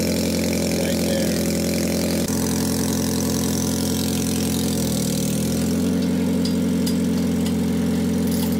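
A Toyota Prius engine idles steadily with an exhaust leak after its catalytic converter was stolen, giving a loud, continuous rumble with a rough, chattering edge and a slight dip in pitch midway.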